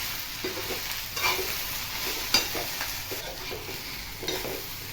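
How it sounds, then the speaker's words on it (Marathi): Okra stir-frying over a full gas flame, a continuous bright sizzle broken by soft scraping stirs and an occasional light knock of the spatula. "फुल गॅसवरती या टाकलेल्या भेंड्या 2 मिनिटे चांगल्या परतवून घ्यायच्या"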